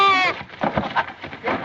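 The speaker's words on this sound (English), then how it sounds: "A goat in your mint bed" A goat in a mint bed gives one loud, wavering bleat close by, and people start talking right after it.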